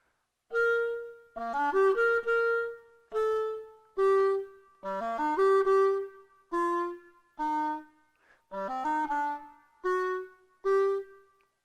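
A lone clarinet plays Gypsy Dance in a classical style, measured phrases of held tones and quick ornamental runs, each followed by a brief silence. Close and clean, nothing else heard.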